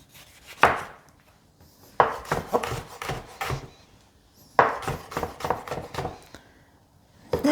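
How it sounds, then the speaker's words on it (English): A kitchen knife slices a tomato in half on a cutting board, giving three or four sharp, close chopping knocks spaced a few seconds apart, with soft rubbing scrapes between them and no talking. "With that, I'm going to cut this one in half."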